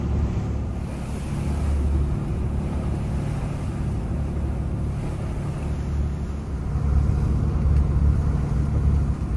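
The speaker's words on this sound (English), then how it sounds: "the waves are smaller now because we're downwind of the island now, but the wind is harsher" Wind and waves roll around a trawler at sea on rough water, a loud low rumble of wind buffeting with broad surging wash that swells toward the end.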